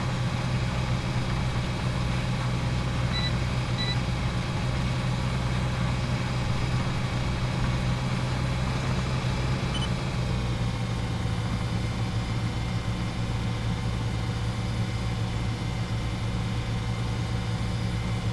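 A tractor engine in the Farming Simulator game hums steadily throughout while the machine turns around, a continuous low drone with no breaks and a slight shift in tone partway through.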